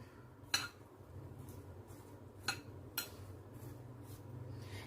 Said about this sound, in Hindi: सब चीजों को हम अच्छी तरह से मिक्स कर लेंगे।